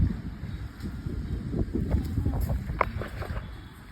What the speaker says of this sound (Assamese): পুৰা বতাহ মাৰি আছে